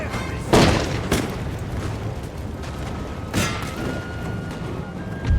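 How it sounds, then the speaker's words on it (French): Infantry musket volleys in Napoleon: Total War, a few booming cracks of massed gunfire rolling over a dense battlefield din, fairly loud and spaced apart. "Ouvrez le feu!"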